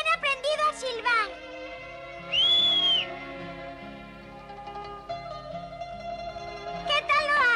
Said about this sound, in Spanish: Y también he aprendido a silbar.